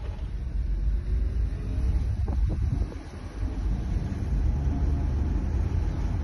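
A rebuilt Mitsubishi Pajero SUV on its first test drive, heard from inside as a steady low engine and road rumble with wind noise, continuous and fairly quiet throughout.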